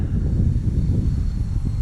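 A ParkZone Sport Cub S2 radio-controlled model airplane drones past on a hot day, its small electric propeller motor giving a steady, fairly close buzzing hum with no talk.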